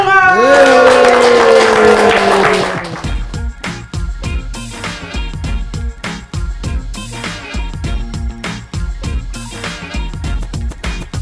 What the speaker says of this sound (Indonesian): Kita beri tepuk tangan yang meriah buat Harry Hore dan Ryuka Bunga.